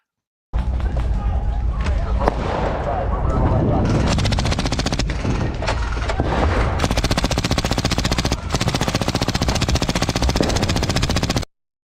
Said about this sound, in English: He's shooting at the air.